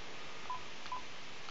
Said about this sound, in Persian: با این تلفن بگیرم